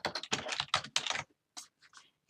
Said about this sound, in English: And then I'm going to type Tracy.